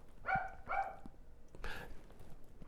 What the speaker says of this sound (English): do you think we can hear the dogs on the recording?